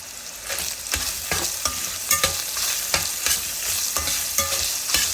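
Lean ground pork sautéing in oil gives a steady sizzle broken by repeated sharp scrapes and clinks of a spatula against the pan at an uneven rhythm.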